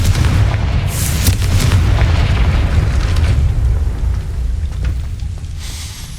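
In the Hogwarts Legacy video game, a Confringo fire spell bursts into a loud, close explosion with a heavy booming rumble that rolls on and slowly fades over several seconds.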